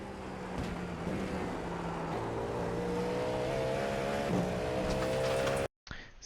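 GTP prototype race car flat out through the Villeneuve chicane at Imola in the iRacing sim, a loud, steady high-revving engine drone with shifting tones held for nearly six seconds before cutting out abruptly.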